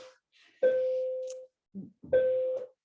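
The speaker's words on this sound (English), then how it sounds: "sorry, that's the bell" A two-tone doorbell chime rings twice indoors, each ding-dong clear and sustained, with a short gap between the rings and quiet surroundings.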